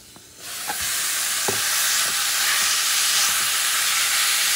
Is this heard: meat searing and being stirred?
yes